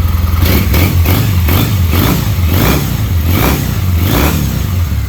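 A stock 2006 Triumph Bonneville T-100 motorcycle engine revs repeatedly, loud and close, its pitch rising and falling in a rhythm of quick throttle blips over a rumbling idle.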